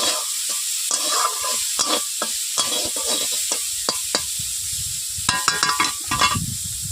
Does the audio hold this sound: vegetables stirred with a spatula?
yes